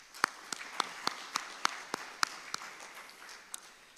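Sparse, scattered clapping from an awards-dinner audience applauding themselves, a handful of distinct sharp claps at irregular intervals over a quiet room, thinning out toward the end.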